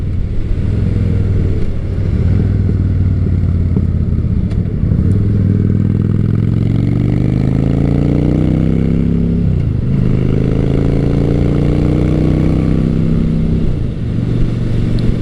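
A Honda Shadow Spirit 750 V-twin cruiser with 20,000 miles idles loudly up close with a throbbing, lumpy rumble, then revs up twice, each rise climbing in pitch before dropping back, with no talking.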